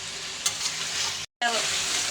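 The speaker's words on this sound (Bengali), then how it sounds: "এই যে আস্তে আস্তে তেল ছাড়তেছে" Chicken curry meat frying loudly as oil separates in the pan, a dense close sizzle with stirring scrapes, cut by a brief dropout before the sizzle returns.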